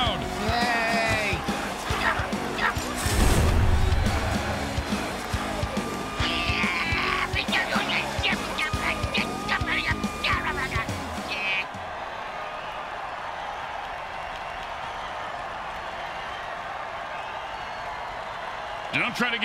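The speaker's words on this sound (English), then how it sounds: "Listen to this crowd." Football stadium crowd roaring after a touchdown in a game, a loud sustained swell of cheering and clapping under a commentator's voice that drops to a steadier crowd murmur.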